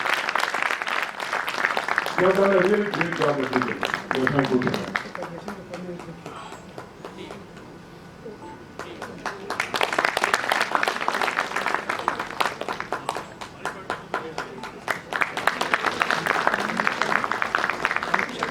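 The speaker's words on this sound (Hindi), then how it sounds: "एक बार जोर से इनके लिए ताली बजाएं" An audience gives sustained, dense applause for people called up onto the stage, swelling loud at the start and again in a long later stretch, while a voice speaks over the clapping.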